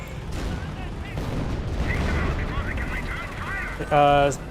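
Company of Heroes battle with M1 anti-tank guns firing on a pursuing Panther tank, giving dense rumbling gunfire and booms under a commentator's continuous talk, ending with a short tonal beep.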